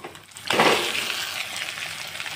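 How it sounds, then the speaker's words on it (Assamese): Potatoes for a samosa filling drop into hot oil with panch phoron and burst into a loud, steady frying sizzle that settles into a continuous hiss. "আলুখিনি অলপ টাইম তেলত এনেদৰে ভাজি লৈ আছোঁ"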